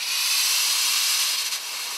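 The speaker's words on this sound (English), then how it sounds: "just push that abrasive out of that vessel until your vessel's empty" Abrasive blaster nozzle hissing steadily at about 50 psi as abrasive is pushed out until the vessel empties, a continuous close airy rush with a slight dip near the end.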